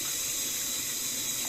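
Tap water runs steadily into a sink as rice is rinsed in the kitchen, a constant close splashing hiss with no voices.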